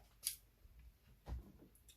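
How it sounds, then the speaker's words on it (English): Scissors snip through three layers of card while a birthday card is being made, giving one sharp, close cut early on and a softer second snip later, with no talk. "Use the scissors,"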